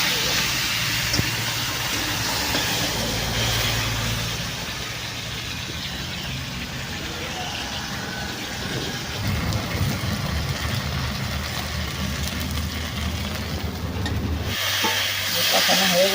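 Pieces of rohu fish fry in hot oil, giving a steady, loud, broadband sizzling hiss that continues unbroken for the whole stretch.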